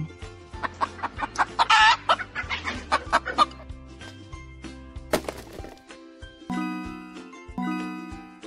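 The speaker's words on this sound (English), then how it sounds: "chicken," A chicken clucks in a series of short, close calls over a light children's music track, with a few louder squawks near the start.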